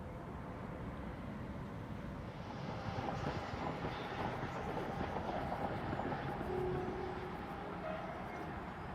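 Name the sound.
train running on railway line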